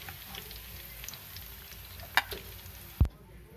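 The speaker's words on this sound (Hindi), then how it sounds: "ऑयल गरम हो चुका है, अब मैं इसमें गोभी फ्राई करूँगी।" Cauliflower fries in hot oil with a steady, even sizzling hiss close by, then a sharp utensil clink and a dull knock near the end before the sound cuts off.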